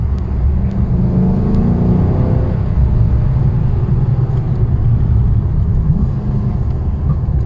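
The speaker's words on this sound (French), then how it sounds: "on a le son de l'italien, enfin voilà, le V8 italien c'est quelque chose quand même" A Maserati GranSport's Italian V8 heard from inside the car, a loud, deep, steady engine rumble that swells as it revs, continuous throughout with faint road noise and no talk.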